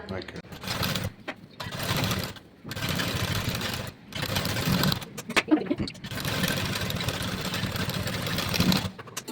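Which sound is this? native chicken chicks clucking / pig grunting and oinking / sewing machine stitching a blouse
sewing machine stitching a blouse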